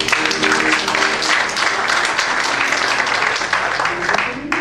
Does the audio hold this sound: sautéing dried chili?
no